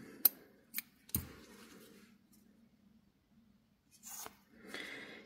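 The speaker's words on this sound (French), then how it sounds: "je vais couper le fil." Scissors snip crochet yarn while a Christmas heart ornament is finished, a few sharp metallic clicks close by, followed by soft rustling handling noises.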